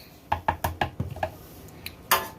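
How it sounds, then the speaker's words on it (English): Eggnog ingredients with a tablespoon each of vanilla and cinnamon stirred in a bowl, giving a short run of close, distinct clinks and taps of a utensil against the dish, about eight light strikes with a final louder scrape. "I'm gonna stir it a little"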